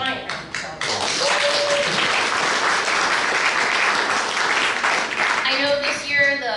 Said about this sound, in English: So, giant round of applause.